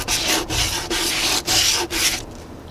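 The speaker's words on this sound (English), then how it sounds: "So I have some 320 grit sandpaper. It's very fine sandpaper." Fine 320 grit sandpaper rubbed over a wooden bread shelf in repeated back-and-forth strokes, about five loud, close, hissing passes separated by brief pauses, with no voices.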